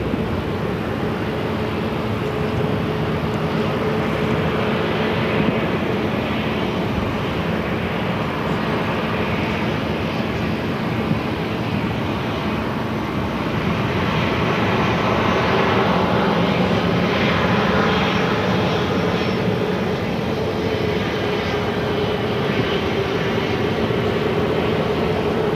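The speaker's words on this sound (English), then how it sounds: "This flight heading back to Portland, it's a 737 MAX 9." A Boeing 737 MAX 9 jet departs Phoenix airport bound for Portland, its engine roar sustained and loud throughout, swelling slightly midway with a steady whine riding on top.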